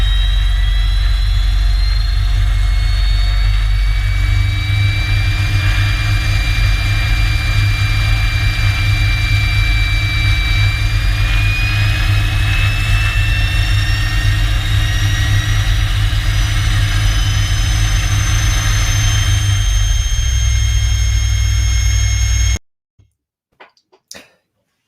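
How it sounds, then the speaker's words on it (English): A jet engine starting up in the pits at an aviation event, a loud continuous roar with rising whine tones building steadily for over twenty seconds before cutting off abruptly into near silence. "we've got a little clip of the jet starting up on the pits"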